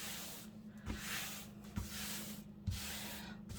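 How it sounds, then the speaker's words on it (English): Paper ephemera gets rubbed down onto glue in a fabric envelope journal, giving soft, close, continuous brushing strokes with a few light taps between them. "So I'll just rub it down so it all connects with the glue."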